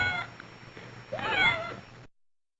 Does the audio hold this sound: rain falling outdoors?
no